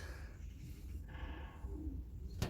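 Desmeth-Matthijs racing pigeon, from old Miller strains bred for middle and long distances, giving soft low cooing in a quiet setting, with a sharp brief click near the end.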